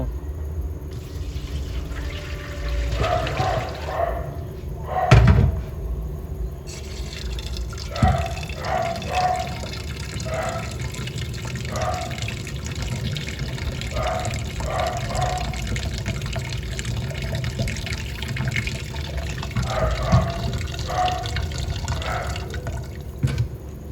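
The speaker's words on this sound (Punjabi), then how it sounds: "ਕੱਟੇ ਹੋਏ ਆਲੂਆਂ ਨੂੰ ਹੁਣ ਚੰਗੀ ਤਰ੍ਹਾਂ ਪਾਣੀ ਨਾਲ ਧੋ ਲਵੋ" Cut potatoes being washed in water nearby: intermittent splashing, dripping and sloshing as they are handled, with soft background hum.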